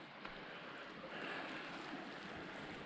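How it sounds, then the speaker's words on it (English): The Bear River breaking open rushes as a steady, broad wash of flowing water heard alone, faint and continuous with no voices. "The Bear River, breaking open."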